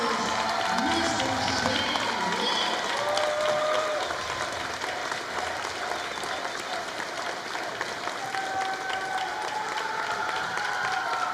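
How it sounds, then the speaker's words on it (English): A crowd at a high school basketball game between Oak Ridge and Campbell County gives a standing ovation, a loud, continuous wash of clapping and cheering that fills the gym, with an announcer's voice over it. "let's give a huge round of applause to my friend and yours"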